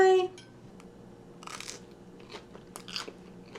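Crunchy bites into a spicy katsu curry, a few short crisp crunches spaced over a few seconds, close and fairly soft against a quiet room.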